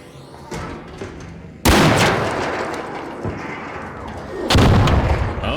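Gunfire in the video game Arc Raiders, two heavy booming blasts with a rumbling tail, loud and close, over a quieter background of game noise.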